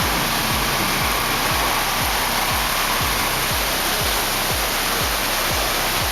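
Fast-flowing river water rushes in a steady, loud, unbroken roar, with a repeating low rhythmic thumping beneath it and no voices.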